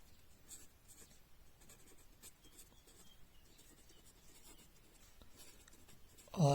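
Marker or chalk writing on a board during a chemistry lesson on compounds, with steady faint scratching strokes and brief pauses throughout, ending in a louder knock or rustle at the close.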